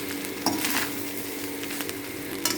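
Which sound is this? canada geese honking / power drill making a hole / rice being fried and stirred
rice being fried and stirred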